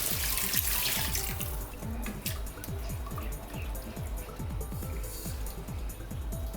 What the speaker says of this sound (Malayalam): ഇനിയും 2 കപ്പ് വെള്ളം എടുത്ത് വെച്ചിട്ടില്ലേ, അതും കൂടെ ഒഴിക്കുക.